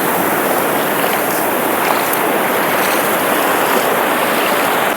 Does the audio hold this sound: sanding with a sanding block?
no